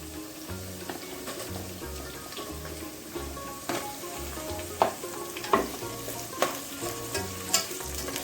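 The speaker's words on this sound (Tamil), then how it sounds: "இப்போ வந்து பட்டை, கிராம்பு இதெல்லாம் போட போகிறோம்னா, அப்புறம் வெங்காயம் போட போகிறோம்" Cinnamon, cloves and onions frying in oil in a pan for a potato pulao, a steady sizzle with recurring stirring scrapes and a few louder taps toward the end, close and continuous with no talking.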